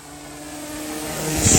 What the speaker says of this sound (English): Yeah, indeed, the plane is climbing.